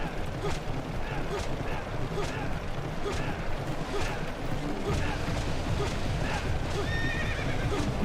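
Horses neighing and hooves clip-clopping during a chariot race in the video game Shadow of Rome, a steady galloping rumble with a clear whinny rising near the end, under a voice.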